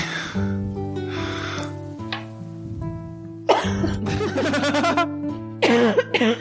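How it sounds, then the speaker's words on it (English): Several coughs and throat-clearing bursts break out over a steady low musical drone, growing louder and more frequent toward the end. "I've been trying not to cough for so long."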